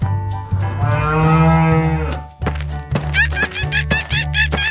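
A cow moos in one long, loud, drawn-out call, followed by a series of shorter, higher-pitched calls and thumps.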